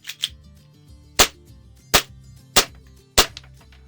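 A BATON TTI Combat Master CO2 airsoft pistol fires several sharp, close snaps spaced irregularly, with a couple of softer clicks near the start and a faint mechanical hum between shots.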